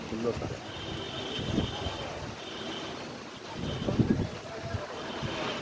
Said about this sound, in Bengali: খুব হাওয়া হচ্ছে সেজন্য।